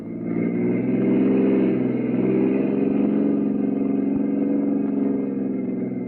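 A car engine runs steadily at a close, even level, with a low droning hum and slight variations in pitch as the vehicle drives along a road, with no voices.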